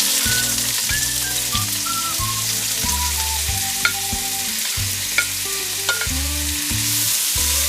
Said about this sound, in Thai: ใส่เห็ด